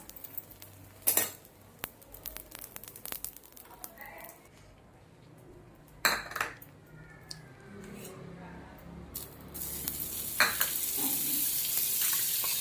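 Pav bread roasts in a pan for street-style masala pav, with soft sizzling and frying under scattered clinks and scrapes of a utensil against the pan, plus a few sharp knocks.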